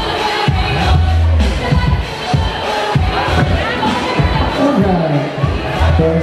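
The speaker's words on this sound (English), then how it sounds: "There's a cheer." Crowd of guests cheering and chattering at a wedding reception, a loud continuous hubbub of many voices with bursts of shouting, and talk mixed into the din.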